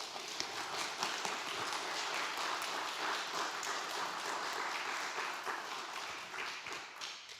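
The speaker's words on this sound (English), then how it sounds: "I think we should give Brenna a round of applause." A room of listeners applauds at a book launch event, a steady, moderate patter of many hands clapping that holds evenly, then thins slightly toward the end, with no voices over it.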